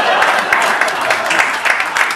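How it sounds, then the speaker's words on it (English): Audience applause at a stand-up comedy show, dense steady clapping from a crowd filling the whole stretch with a few louder bursts, no speech over it. "Give him a round of applause."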